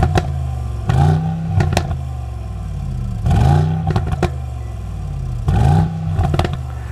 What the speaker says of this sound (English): we have a quad exhaust finished in black to hear the sound of your V8